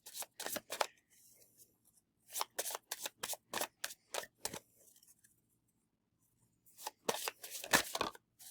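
Tarot cards being shuffled by hand, close up: three runs of crisp, rapid riffling clicks, each lasting a second or two, separated by quiet pauses.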